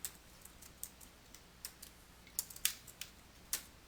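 Typing a formula on a computer keyboard in a quiet room, with irregular light, crisp key clicks in short bursts and no voices.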